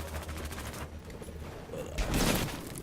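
Sustained automatic gunfire in the Battlefield Hardline beta, a dense burst of rapid shots with a heavier, louder volley near the end.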